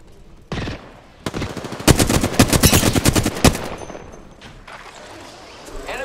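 Rapid automatic gunfire in the video game Apex Legends: a few isolated shots, then dense machine-gun bursts for about two seconds, fading into quieter distant shots.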